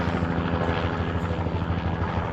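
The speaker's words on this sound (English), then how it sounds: "police helicopter." Police helicopter passing over a residential neighborhood in Brainerd, a continuous throbbing rotor chop at moderate distance, steady and unbroken with no talk.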